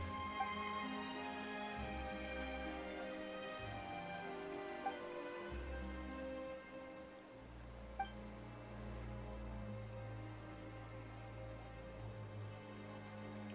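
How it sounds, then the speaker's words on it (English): Sudden rain falls in Genshin Impact, a steady patter on surfaces under sustained background music, with a couple of brief drip-like ticks and no talk over it. "Why is it raining all of a sudden?"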